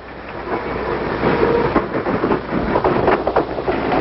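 Freight train cars roll steadily through a modern freight yard, a continuous loud rumble with scattered clanks and rattles of the wagons, no voices over it.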